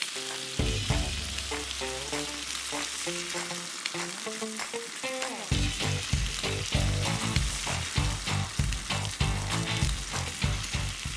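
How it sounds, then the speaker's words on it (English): Sandwiches toast on a stainless steel braai grid over the dying heat of a fire, giving a steady, close crackling sizzle that runs the whole way through with tonal music playing over it. "Finally, a few sandwiches to be toasted on the last heat of our fire."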